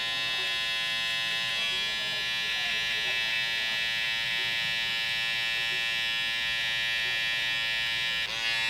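Electric hair clippers buzz steadily and close up throughout while cutting a client's hair in a barbershop, a constant droning hum with no pauses.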